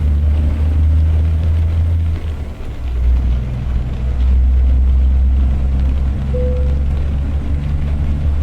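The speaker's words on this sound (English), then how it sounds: "All that noise you're hearing is the wheels slipping in the back." Truck wheels slip and spin in the rain in American Truck Simulator, an International Lonestar hauling double trailers, giving a loud, steady low engine drone with a rumbling hum and no voices.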